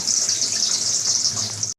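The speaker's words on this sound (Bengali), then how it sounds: "এবার আমি ছ বাটি জল দেব" A continuous rush of water pouring steadily into basmati rice, close by, with no voices.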